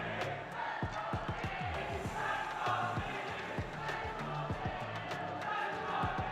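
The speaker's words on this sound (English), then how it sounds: "You can hear how much it means to the crowd as well, Pavlos." A large esports crowd roars and cheers continuously at a Riot Games event, with sharp thuds and bangs punctuating the steady wall of noise throughout.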